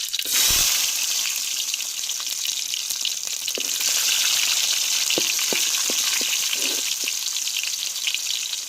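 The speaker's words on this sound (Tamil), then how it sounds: "எண்ணெய் சூடாயிருச்சுங்க கடவுளுந்து போட்டுக்கிறோம் ரெண்டு கருவேப்பிலை போட்டுக்கிறோம் சின்ன வெங்காயம் சேர்த்துக்கிடுவோம்" Small shallots and curry leaves hit hot oil for a home-style sambar tempering, giving a loud, continuous bright sizzle with a few sharp pops and crackles scattered through it.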